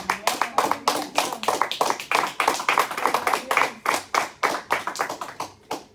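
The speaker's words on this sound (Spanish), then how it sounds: "Denle un aplauso a Cristo." A church congregation claps along at a Spanish-language sermon, a steady run of sharp, fairly close handclaps that carries on for several seconds before thinning out.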